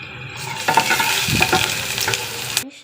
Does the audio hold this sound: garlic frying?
yes